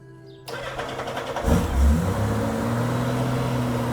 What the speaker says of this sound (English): let's start up the bike to make sure my new battery runs good